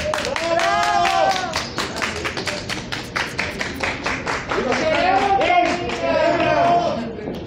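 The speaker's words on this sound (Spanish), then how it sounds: "Un aplauso para doña Susana. ¡Bravo!" Clapping from a crowd gathered around press and mourners at a farewell for a veteran actress, with loud voices cheering and shouting over the steady claps.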